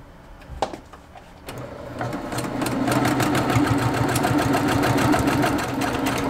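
A sewing machine stitches steadily along the outermost stitch line of a whimsical fabric advent calendar, a few clicks first, then a loud, rapid, even mechanical rattle that holds for several seconds.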